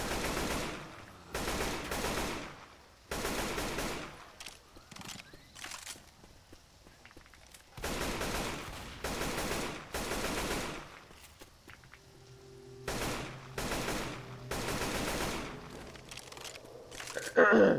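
Gunfire in Left 4 Dead 2 on the No Mercy campaign at Expert difficulty, loud bursts of automatic fire in clusters separated by quieter gaps, close and sharp; someone talks between some of the bursts.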